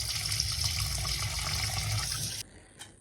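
Tap water gushes steadily into a sink as chicken pieces are washed, a continuous close splashing stream that cuts off abruptly near the end, leaving a faint drip and clink.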